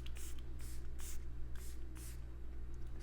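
A setting spray for makeup is misted in five short, close bursts with a brief pause between them, each one a soft airy hiss over a low background hum.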